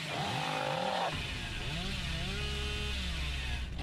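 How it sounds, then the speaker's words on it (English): A chainsaw in the video game Dead by Daylight revs in a steady, loud, buzzing drone that shifts in pitch, with a voice talking over it. "Oh, that would be a nasty chainsaw."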